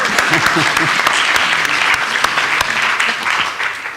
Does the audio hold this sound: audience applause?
yes